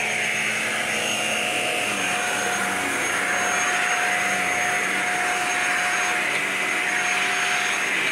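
Shark Apex cordless-style upright vacuum cleaner running continuously at close range, a steady loud whirring hiss with a constant whine, no talking.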